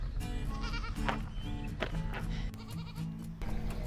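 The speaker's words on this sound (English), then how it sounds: "I came out here and the baby goat was talking to me." A baby goat on a farm bleats several times close by, with short wavering cries in a loose irregular rhythm and quiet background between them.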